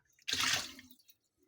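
Water from a filter poured into a jar holding grape cuttings, a single close, loud splashing pour lasting about half a second and then trailing off into quiet.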